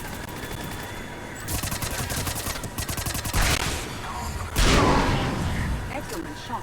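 Rapid automatic weapon fire in the video game Mass Effect 3 rattles in close, sustained bursts, punctuated by heavier blasts, with a voice speaking over the combat.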